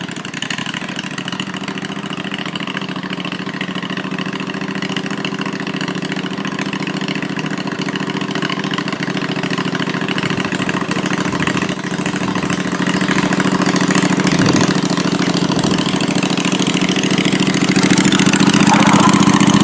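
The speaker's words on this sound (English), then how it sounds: "Oh man, and that's with no throttle. Idle speed." A Murray engine build idling with no throttle connected, a steady low droning rumble that runs continuously and close, growing slightly louder toward the end, with no talk over it.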